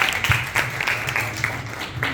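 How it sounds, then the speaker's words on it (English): Audience applause at a student debate on values from the Bhagavad Gita: a short, loud burst of clapping from a nearby crowd that runs throughout, with a voice faintly underneath. "Please give a big round of applause to."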